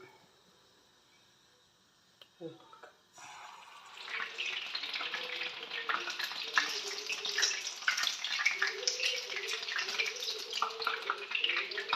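Bonda dough balls drop into hot coconut oil and start frying, a dense crackling sizzle that swells after a quiet start and keeps bubbling loudly and close.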